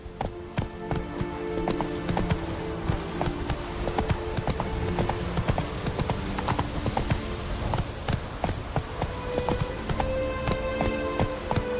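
Roach the horse gallops in The Witcher 3, a steady rapid clip-clop of hooves close and continuous over ambient game sound, with no talking.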